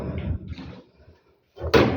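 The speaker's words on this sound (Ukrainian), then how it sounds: "Ось відкриваємо двері." A door opens with a sharp click and thud near the end, after some muffled handling sounds and a brief silence.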